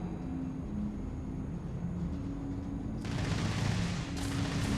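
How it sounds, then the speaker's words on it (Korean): Gunfire from the Starfield video game bursts in around the three-second mark as a loud, dense broadband blast, with another sharp crack near the fourth second, over a steady background hum of game ambience. "총소리 났다."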